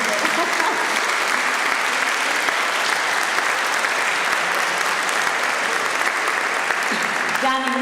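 A crowd at a self-management awards ceremony gives loud, continuous applause, a dense clapping roar sustained for several seconds with faint voices mixed underneath.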